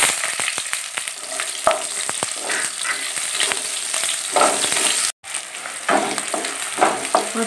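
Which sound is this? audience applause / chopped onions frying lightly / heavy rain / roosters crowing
chopped onions frying lightly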